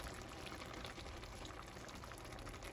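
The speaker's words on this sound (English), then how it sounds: "pour in our heavy cream" Heavy cream pours steadily into a pot of cooked noodles for a seafood Alfredo, a continuous close liquid rush with no pause and no voices.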